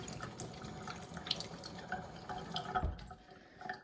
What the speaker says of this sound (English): if I just pop a bit of water in this to prime it